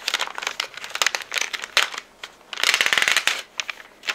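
Paper wrapping comes off a taped-shut watercolor coloring book with paints included, giving close crinkling and tearing rustles in uneven bursts, with a longer crumpling stretch near the end and no speech.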